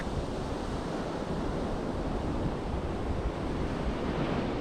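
Winter surf at Gangneung beach, a continuous roaring wash of breaking waves mixed with wind buffeting the microphone, loud and steady without any speech.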